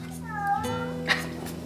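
A cat meows in a kitchen while martinis are mixed, a short rising-and-falling cry near the start with a brief sharper call about a second later, under light talk and a steady background hum.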